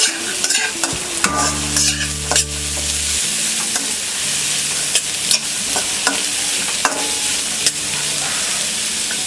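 Capsicum being stirred into broken wheat upma in a pan, with steady scraping and stirring strokes over a continuous sizzle. A low humming tone runs briefly near the start, and no one speaks.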